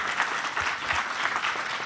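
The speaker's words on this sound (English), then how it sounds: "with a big round of applause to our participants" Sustained audience applause closes a session of an OECD Global Forum on Development conference, a steady dense wash of clapping from a sizable crowd lasting throughout without pause.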